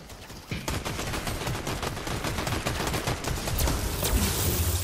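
Rapid bursts of gunfire from a Fortnite trio match ring out nearly continuously, with dense overlapping shots and some machine-gun-like strings, loud throughout and with no talk over them.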